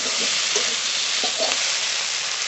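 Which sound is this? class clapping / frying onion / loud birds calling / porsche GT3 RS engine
frying onion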